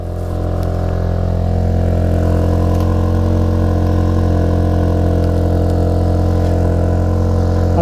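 Volkswagen Golf GTI TCR engine idling on a cold start in sport mode, a loud, steady, deep throbbing rumble held close to the microphone throughout with no talk.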